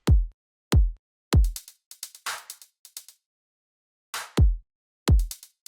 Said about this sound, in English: Also adding this kick